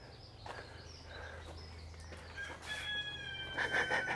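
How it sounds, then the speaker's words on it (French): A rooster crows in a garden of floating vegetable plots at an international garden festival, a clear mid-distance cock-a-doodle-doo rising near the end over outdoor ambience and faint bird calls. "Le coq même."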